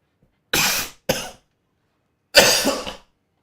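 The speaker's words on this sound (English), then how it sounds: "just having a bit of a coughing fit" A person in a fit of coughing produces three harsh, close coughs: two quick ones close together, a pause, then a longer, rougher cough.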